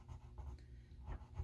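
A colored pencil scratches and rubs across watercolor paper while coloring the inside of a flower, in soft, close, uneven short strokes that are very faint.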